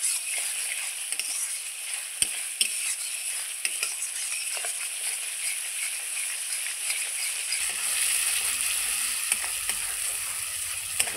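Spice masala for a river fish curry sizzles in oil in a pan. The frying hiss is steady and close with occasional faint clicks of stirring, and a low rumble rises near the end. There is no talking.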